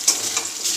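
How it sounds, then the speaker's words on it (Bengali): Potatoes and onions frying in a pan give a brief, steady close sizzle with a couple of small crackling spikes. "আর আলু আর পেঁয়াজ ভাজছি।"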